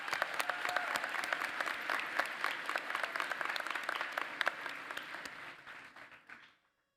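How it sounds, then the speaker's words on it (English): Sustained crowd applause fills a nurse pinning ceremony, dense and even clapping that tapers off and stops abruptly near the end. "Please give them a round of applause."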